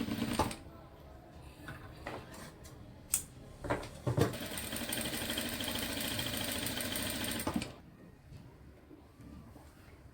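A sewing machine runs in a steady whirring burst while stitching arm-hole tucks on a blouse, preceded by a few clicks and handling knocks, then stops and quiets.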